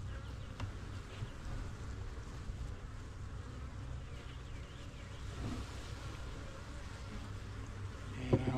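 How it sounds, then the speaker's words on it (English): Honeybees buzz steadily at the top of a hive during a spring inspection, a dense continuous hum heard close and moderately quiet throughout. "And there are bees up top."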